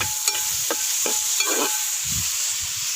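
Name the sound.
onions and tomato sautéing in a pan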